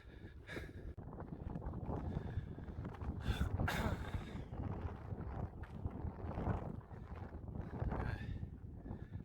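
Strong wind on a high point in the canton of Zurich, Switzerland, buffets and roars across the microphone in uneven gusts, a rough blustery rush with no talking.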